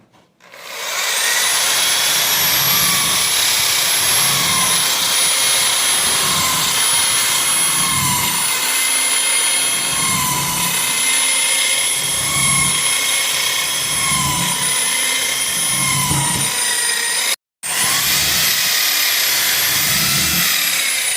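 A power drill bores holes through an MDF basket base, its high whining motor running loud and steady for about twenty seconds with a rhythmic pulsing as it bites the wood, cutting out briefly near the end.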